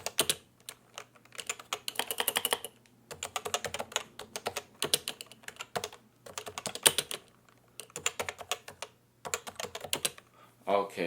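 Rapid bursts of keystrokes on a computer keyboard set to the Dvorak layout during a typing test, clattering in uneven runs separated by short pauses, close and fairly quiet, with a low steady hum underneath.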